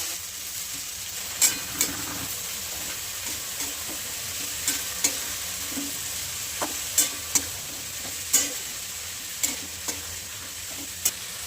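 Cumin seeds and crushed garlic sizzle in hot oil in a pan while making a cluster bean (gavar) vegetable dish, a steady soft frying hiss punctuated by sharp spoon clicks as it is stirred.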